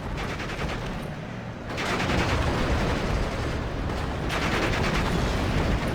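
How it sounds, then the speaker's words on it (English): A tank's cover fire in the World War II strategy game Steel Division Normandy 44, set in Normandy bocage, with dense, rumbling bursts of machine-gun and cannon fire that swell louder midway and keep going without pause. "Tank providing cover fire."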